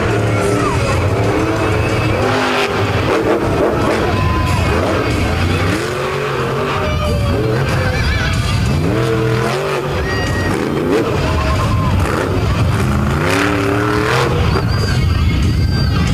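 A monster truck named Hooked tears around a beach show arena, its engine roaring loud and close with repeated revs rising and falling in sweeping waves over a constant crowd-and-motor din.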